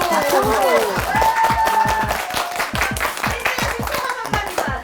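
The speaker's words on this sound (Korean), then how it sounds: "박수!" A small group of older women at a Valentine's Day cooking gathering clap their hands in a quick, brisk burst of applause, close and lively, with voices chattering over the clapping.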